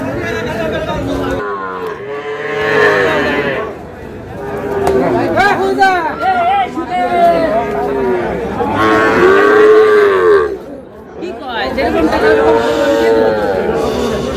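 Young bull calves and cattle moo repeatedly at a crowded livestock market in Tangail, long loud drawn-out bellows one after another, with people bargaining and chattering in the background.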